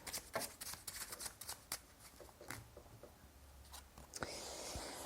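Tarot cards being shuffled by hand, a quiet run of soft riffling and flicking with irregular taps, ending in a brief louder rustle as a card slips out.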